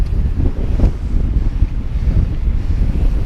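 Strong wind buffeting the microphone during a bike ride on the chip-sealed Highline Lake Loop road near Fruita, Colorado, a loud steady low roar with gusty fluctuations and no voices.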